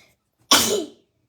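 A single sharp sneeze bursts out close and loud, lasting about half a second, with silence before and after.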